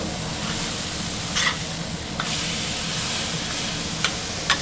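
A smashed burger patty sears on a hot griddle at a Texas BBQ spot, giving a steady close sizzle with a few faint scrapes or ticks and no voices.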